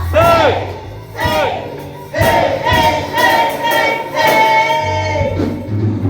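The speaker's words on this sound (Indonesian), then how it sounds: "Oke, tepuk tangan, tepuk tangan, bersoraklah, bersoraklah, bersoraklah" Congregation at a Sunday worship service on Mother's Day rising into loud cheering and shouted voices, with bursts of crowd noise swelling and easing close by.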